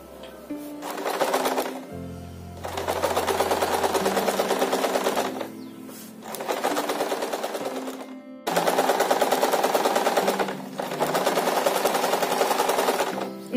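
A sewing machine stitches lining into a blouse in several bursts of rapid, even needle rattle, each lasting a few seconds, separated by short pauses, close and steady with no talking.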